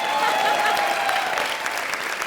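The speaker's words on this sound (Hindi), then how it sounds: "तू क्यों रुक गया ताली बजाते हुए?" Studio audience applause at a Krushna comedy show: a dense, steady wash of clapping that stays loud and even for about two seconds.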